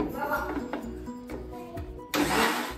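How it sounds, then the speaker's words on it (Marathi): A mixer grinder whirs loudly for a few seconds grinding a paste with water, a steady high-pitched motor roar. "पाणी टाकून घेतले आपण, परत मिक्सरला वाटून घेऊ"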